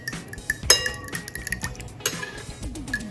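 A fork whisks eggs in a bowl, clinking and scraping against the sides in quick irregular strokes, close and fairly loud with no talking.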